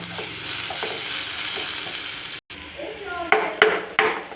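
Spices with turmeric powder and garam masala fry and hiss in a pan as they are mixed, a steady sizzle with a brief dropout, then a few sharp clanks of a utensil against the pan.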